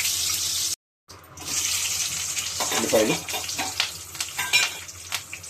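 Idli bajji sizzling in ghee in a pan, with a loud continuous frying hiss and bubbling that cuts out briefly before resuming, with a few stirring clinks and muffled voices under it.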